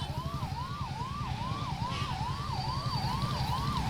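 Ambulance and police vehicle sirens wail continuously in a rising-falling cycle as a funeral procession moves slowly on foot, loud and close over a low engine rumble.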